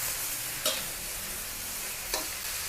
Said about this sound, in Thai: ไฟแรงเลยค่ะพลิกกลับด้านเนาะแบบนี้เลยนะคะ การจะผัดให้กระหล่ำปลีค่ะ ยุบตัวลงสักเล็กน้อยนะคะ